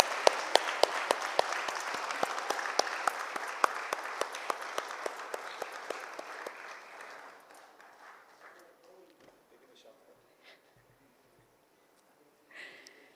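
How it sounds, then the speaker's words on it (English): An audience at a conference inauguration applauds heroes welcomed on stage, with dense clapping and sharp individual claps that fade over several seconds into scattered claps and quiet, with a brief burst near the end. "A big round of applause for both our heroes here today."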